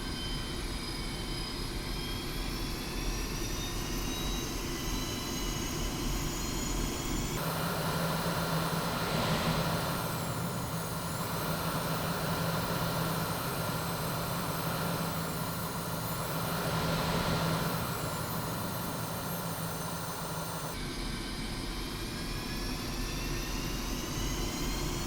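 Su-25T attack jet taxiing in the DCS flight simulator, its engines holding a steady loud whine and roar throughout, with rising and falling turbine tones in the middle stretch and no voices.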